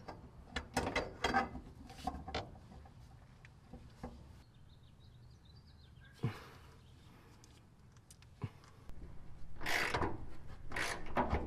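Ratchet wrench working gas tank bolts on a second-generation DSM Eclipse, giving sharp clicking bursts in short spurts with pauses between, fairly close, with no talk.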